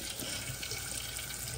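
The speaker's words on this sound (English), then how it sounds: "I just run the water hot," Hot water runs steadily from a tap into a coffee cup, a continuous close hiss of flowing water with no voices.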